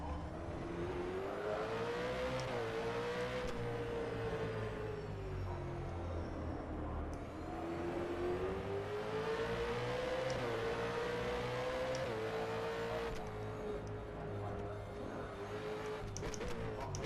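A simulated V8 Supercar from the FVR mod for rFactor 2 runs continuously at high revs through repeated upshifts and lifts. A faint tyre squeal and some brief crackles appear toward the end, and no one speaks.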